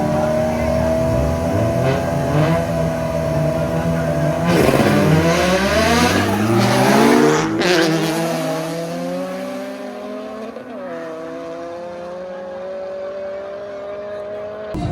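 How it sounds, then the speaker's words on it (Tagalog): A Toyota 86 and a turbocharged Honda SIR drag race: loud, close engines rev and climb through gears with rising and falling pitch sweeps, then fade toward the end without speech. "Toyota 86 versus Honda SIR"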